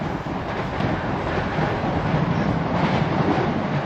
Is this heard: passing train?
yes